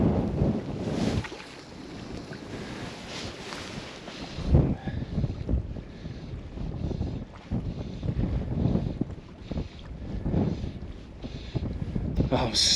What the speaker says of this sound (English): it is not easy in this wind